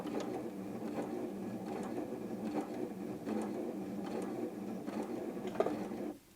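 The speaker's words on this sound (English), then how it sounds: "no matter how far I push my foot down, it will only sew at the slowest speed" A Janome M200 QDC sewing machine stitches at its slowest speed, a steady, even, rhythmic mechanical chatter running close and continuous until it stops at the end.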